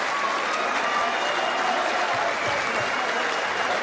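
A snooker crowd at the 2019 Players Championship final applauds a 1000th career century with dense, sustained clapping that stays even and loud throughout.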